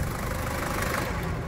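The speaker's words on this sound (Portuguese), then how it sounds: "isso que vocês acabaram de ver é um motor Toyota batendo" A Toyota KZ-T turbo diesel engine knocks in a Land Cruiser Prado, a steady, loud, close idling rumble with a rapid rhythmic clatter running unbroken throughout, no voices.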